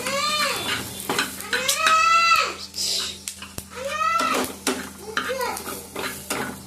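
Garlic cloves and half an onion fry in a pan with a steady sizzle, and a spoon repeatedly scrapes and clatters against the metal. Close and fairly loud, with a few whistling tones over the cooking and no talk.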